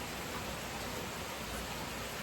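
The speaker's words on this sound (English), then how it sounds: "It's raining." Steady rain falling outdoors, a dense even hiss of drops without a break and no voices.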